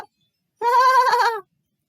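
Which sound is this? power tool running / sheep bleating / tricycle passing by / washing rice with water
sheep bleating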